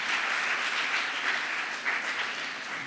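A crowd applauding steadily, dense clapping that holds at an even level for a few seconds.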